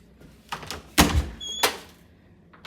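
The back door to a house's patio opens with a few knocks and a solid thunk from the handle and latch, then a short squeak and a second clunk, close by in a quiet room.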